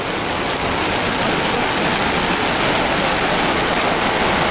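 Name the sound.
heavy rainstorm in city street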